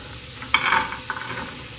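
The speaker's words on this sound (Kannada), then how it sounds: "ಈರುಳ್ಳಿ ಬೆಳ್ಳುಳ್ಳಿನ ಫ್ರೈ ಮಾಡ್ಕೋಬೇಕಾಗುತ್ತೆ" Onion and garlic frying in a pan give a quiet, steady sizzle, with a couple of brief stirring scrapes near the start and a soft clatter later, with no voices.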